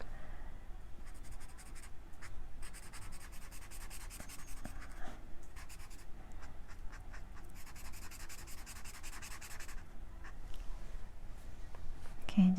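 Bullet-nib marker colouring on paper for a fairy and fantasy colouring book, a steady close scratchy stroking that runs through nearly the whole stretch in bursts, with a faint low room hum beneath and no talk.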